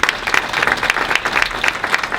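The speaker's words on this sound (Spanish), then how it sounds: "Denle un aplauso al Rey" A gathering at a Christmas celebration bursts into steady applause for the King, with thick, continuous clapping from many hands, loud and sustained without any talk over it.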